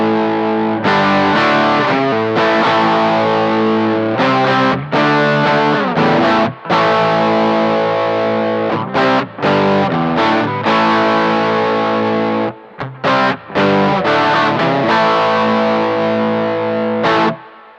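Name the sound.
electric guitar through distortion pedal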